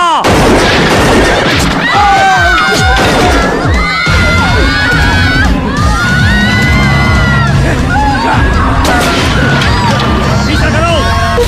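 Battle scene with gunfire crackling amid shouting crowds and cries, loud and continuous with bangs scattered throughout under chaotic voices.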